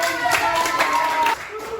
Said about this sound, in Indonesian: Terima kasih Sahal. Tepuk tangan.